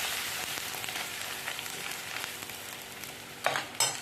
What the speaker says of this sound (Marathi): हळद टाकते हलवून घ्यायचं व्यवस्थित तेलामध्ये हळद